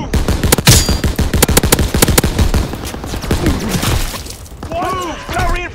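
Heavy gunfire rattles in rapid machine-gun bursts in the World War II shooter Call of Duty WW2, loud and close with a sharp impact near the start. The firing thins out toward the end as radio-style voices call out.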